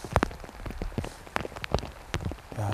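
Rain falls on the Nakdong River during summer bass fishing, a close, steady patter with distinct drops tapping nearby surfaces throughout.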